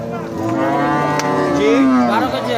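A crossbred dairy cow at Khochabari cattle market in Thakurgaon moos loudly and close by, one long drawn-out low call that rises and falls over a quiet background.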